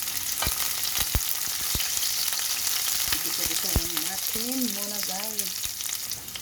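Garlic and onion frying in oil for chicken adobo, a steady close sizzle with a few sharp pops and clicks, and a voice talking faintly over the cooking.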